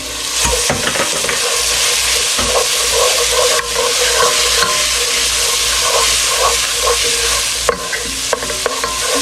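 Garlic sautéing in a pan for deep dish pizza sauce: a loud, steady sizzle with a constant frying hiss and faint stirring scrapes, close by, with no talk.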